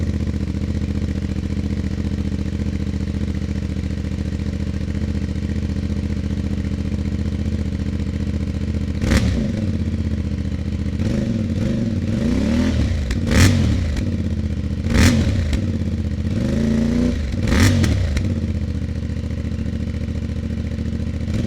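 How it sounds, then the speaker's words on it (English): A CFmoto Ibex 450 adventure motorcycle on its stock exhaust idles steadily, then gets several sharp throttle blips, each rev climbing and falling back in a loose rhythm, close to the microphone with no talking. "I wanna crank the key and give you guys a listen to this exhaust"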